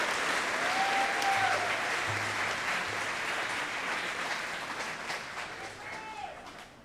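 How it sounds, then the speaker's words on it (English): Sustained audience applause at a senior recognition graduation ceremony for the Class of 2022, steady dense clapping from a large crowd that slowly fades, with a few faint cheers. "give a round of applause to the Early Childhood Education Class of"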